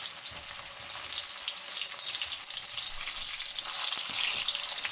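Apple pie spring rolls fry in oil in a pot on a medium-low stove, giving a bright, busy bubbling hiss that stays close and fairly steady throughout, with no voices.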